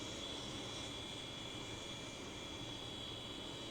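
Hawker Hunter jet in the Prepar3D flight simulator taxiing, a steady broadband engine roar with a thin sustained high whine, constant level throughout with no voices.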